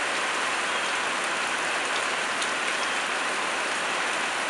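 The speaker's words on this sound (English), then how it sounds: "but it's a well-needed rain" Steady rain falling after months of drought on a street by a park, a dense even hiss of drops striking pavement, constant and close with no talk.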